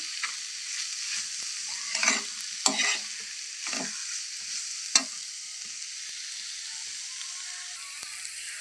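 Amaranth leaves stir-fry in a pan with a soft steady sizzle, broken by a few louder scraping stirs and clinks of a spatula, close and fairly quiet.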